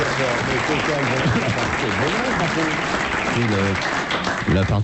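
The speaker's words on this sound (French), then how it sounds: "On applaudit." Studio audience applause on a French comedy talk show, continuous loud clapping throughout, with laughing voices and talk layered on top.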